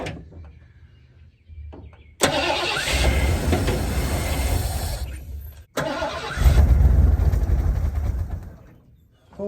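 A 1986 Ford Bronco that sat unused for 16 years runs after starting. Its loud, steady engine rumble is close up, briefly drops out midway, then returns strongly before fading at the end.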